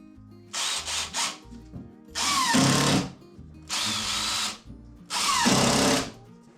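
A power drill drives screws into wood in four close, loud bursts: a quick triple stutter, then three longer whirring runs of about a second each, with short quiet gaps between.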